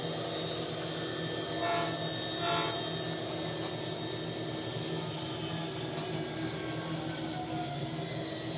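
Model train locomotive sounds played through a DCC SurroundTraxx surround speaker system, a steady engine rumble and hum with a couple of brief horn-like tones early on, no talking.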